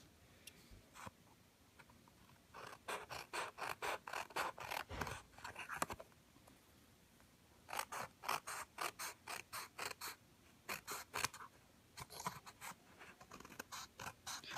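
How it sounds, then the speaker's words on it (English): Quick bursts of small Cutter Bee craft scissor snips trimming paper for a notebook insert, close and crisp, in rhythmic runs separated by short pauses. "I'm going to trim those using my Cutter Bee scissors"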